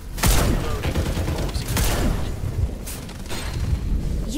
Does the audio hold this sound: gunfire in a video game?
yes